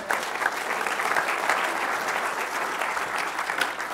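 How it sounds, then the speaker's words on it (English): An audience at a talk gives dense, even applause that carries on steadily for several seconds, a broad wash of many hands clapping with no voices on top. "Give these guys a big round of applause"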